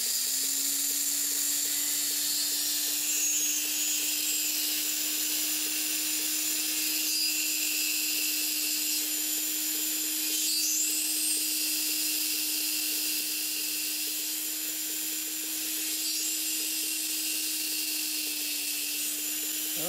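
A 1mm DRILAX diamond burr drills into stone under lots of water, giving a steady high-pitched whine with a constant tone and hissing spray, close and continuous without pause.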